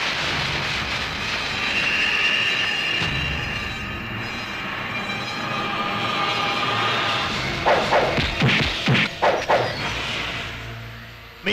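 A movie soundtrack of a train: a rolling rail rumble and wheel noise for several seconds, then a series of sharp, loud bursts close together near the end, with a voice briefly in the mix.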